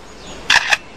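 A forest bird mimics a camera shutter, producing two quick, crisp mechanical clicks close by against a quiet background.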